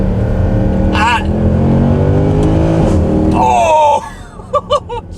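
A Mercedes C63 AMG 507 Edition engine accelerates hard with rising revs, a loud close roar that climbs and shifts, then cuts to a few short bursts, with a voice over part of it.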